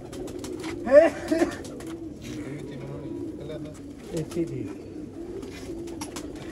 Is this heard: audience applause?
no